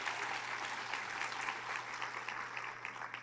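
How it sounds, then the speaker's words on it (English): Crowd applauding at the 2019 Excellence in Education awards ceremony for the School District of Manatee County, steady dense clapping heard from a distance over a low electrical hum. "Let's give them a round of applause."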